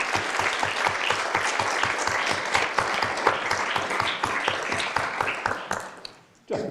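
An audience welcoming four panellists at a talk on voting systems breaks into loud, dense, sustained applause that fades toward the end and ends with a brief near-silence.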